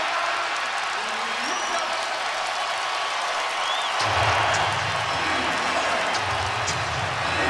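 Crowd at an NBA basketball game in an arena, the Philadelphia 76ers at the Chicago Bulls, applauding and cheering as a broad steady roar that swells near the middle, with a commentator talking over it.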